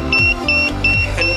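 An electronic forest-fire warning alarm from a smart fire-prevention system sounds in a loud, close series of about four short, evenly spaced two-tone beeps.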